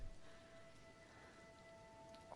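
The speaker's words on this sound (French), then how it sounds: "Oh, regardez, il pleut même bien" Steady rainfall in the Zelda: Tears of the Kingdom video game, a soft, even hiss of falling rain that stays constant throughout with no voices over it.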